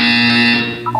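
A loud electronic buzzer drones steadily for about a second in a Portal 2 role-playing wellness exercise, a flat harmonic tone that shifts to a brief warbling pitch at the end.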